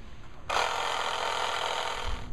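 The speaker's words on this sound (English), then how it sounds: "we can put air back into the tube." Air hissing steadily into a motorcycle tire tube through a Schrader valve, starting abruptly after a half second of quiet and holding as a constant close, bright rush until the end.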